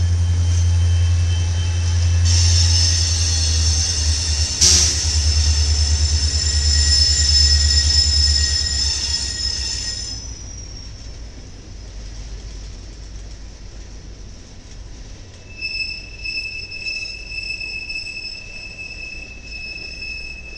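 A short BNSF freight transfer train from Madison Yard to Linwood Yard in St. Louis, Missouri rumbles past with heavy low drone and high metallic wheel squeal, then fades away, leaving faint tones and quiet background.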